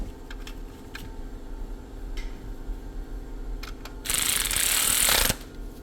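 A ratchet clicks while tightening the oil drain plug on a 2022 GMC Terrain, with light mechanical ticking followed by a brief louder whirring burst, close by.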